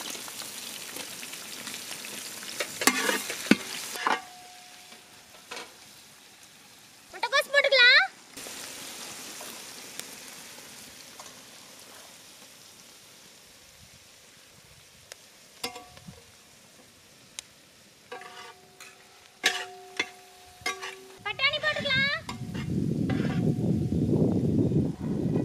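Chicken noodles with onion, curry leaves, capsicum and tomato fried and stirred in a pan for village-style cooking; intermittent clatters and scrapes of stirring give way to a loud, steady sizzle at the end, with brief speech in between.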